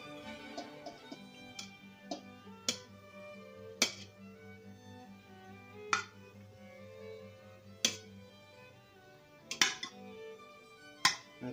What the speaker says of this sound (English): I am going to be adding all of the pasta